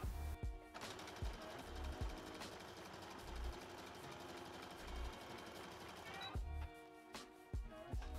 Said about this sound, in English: now I'm just going to sew across this edge here.